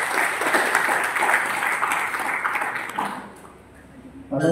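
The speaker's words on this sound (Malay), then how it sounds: "Marilah kita berikan satu tepukan pada yang berhormat" Applause from the audience at the opening of an annual general meeting in Mersing, a steady dense clapping that carries for about three seconds before tapering off, then a brief burst at the end.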